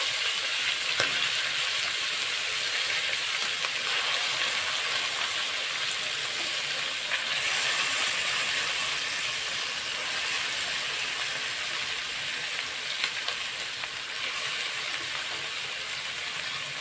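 Pieces of meat fry in a pot at the start of making a meat soup, giving a dense, continuous crackling sizzle with occasional sharper pops, steady and close with no voices.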